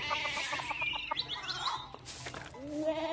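A chicken clucks in the video game Pentiment, giving a quick run of close, rhythmic clucks and squawks followed by a rising cackle, with no talking.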